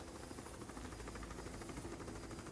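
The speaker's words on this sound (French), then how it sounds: "il y a un hélicoptère qui est en train de lui tirer dessus" A helicopter from the Tomb Raider video game, heard as a steady, faint, dense rotor and engine roar with no clear gunfire standing out and no talk over it.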